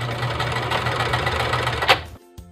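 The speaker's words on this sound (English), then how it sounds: "Sew both ends down using a standard straight stitch." A sewing machine runs a standard straight stitch on a tie: a loud, steady, rapid mechanical whir with a fast chattering rhythm that stops abruptly near the end, leaving a brief click.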